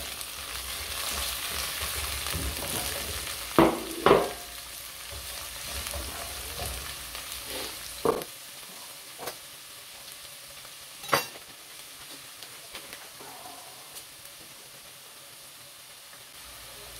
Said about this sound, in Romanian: După cum vedeți, ceapa aproape e călită foarte bine, am dat un pic focul mai tare.